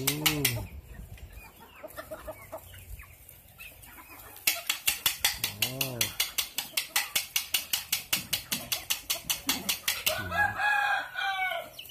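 Chickens cluck and a rooster crows, with a fast, regular mechanical clicking rattle running through the middle stretch.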